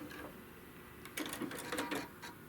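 A sewing machine stitches across quilt fabric in short bursts of rapid mechanical clatter, starting faintly and growing more distinct midway, with no voices.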